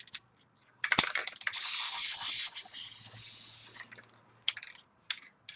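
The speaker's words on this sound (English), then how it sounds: "I'm going to go ahead and use more of that flat white spray paint." A can of flat white spray paint hisses in a steady burst lasting a couple of seconds onto a mixed media journal page, followed by shorter spurts and light handling taps; close and fairly quiet.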